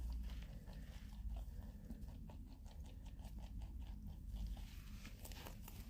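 Pet rabbits crunching a crunchy, damp treat on a blanket, a faint, steady patter of small bites and chewing close up, quiet under low room noise.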